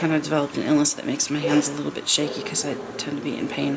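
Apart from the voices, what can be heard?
No everyday noise stands out behind the speech.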